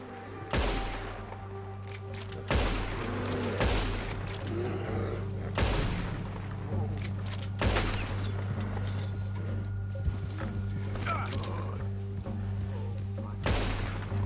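Video game gunfire on PS4: several sharp, booming shots spaced a few seconds apart over a constant low rumble and hum, with faint game dialogue beneath.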